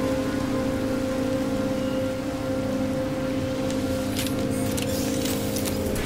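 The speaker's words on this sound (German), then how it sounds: "Regenstürme" Rainstorm on a paradise planet in the video game No Man's Sky: a steady hiss of falling rain over a low constant hum, with brief crackling bursts near the end.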